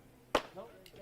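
A hard baseball pitch popping into a catcher's glove, one sharp close snap followed by faint trailing sound.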